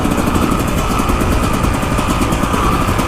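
Honda VFR motorcycle engine running steadily up close, a loud, continuous mechanical drone with a dense rapid pulse and no pauses throughout.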